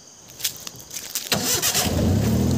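A car engine cranks and catches on a fifth try, a few sharp clicks and turning-over sounds giving way to a steady, loud idle that fills the second half.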